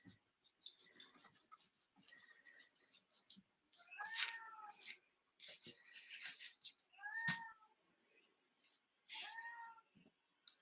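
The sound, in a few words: cat yelling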